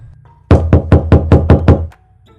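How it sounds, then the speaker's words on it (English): Seven firm, evenly spaced knocks on a door, loud and close, struck in a quick steady rhythm with low room noise before and after. "I knocked on the door"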